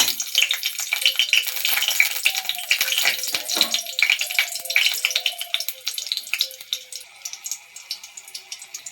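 Two green chillies frying in hot oil, giving a steady close crackling sizzle with scattered pops and stirring clatter that gradually thins out toward the end; no talking.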